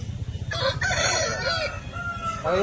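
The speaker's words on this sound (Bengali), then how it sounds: "একটা মুরগি দেখো" An Aseel rooster crows loudly and close by, a long drawn-out call followed by the start of another, over low clucking and farmyard bustle.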